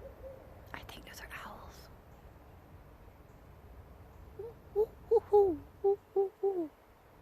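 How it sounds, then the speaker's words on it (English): Owls hoot at night in a run of about six short, evenly spaced calls near the end, fairly close and clear over quiet background hiss. "owls."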